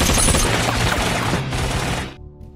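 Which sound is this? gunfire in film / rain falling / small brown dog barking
gunfire in film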